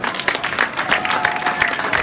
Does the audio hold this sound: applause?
yes